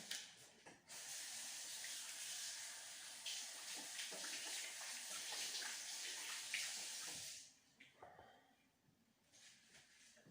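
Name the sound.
washing hands under running tap water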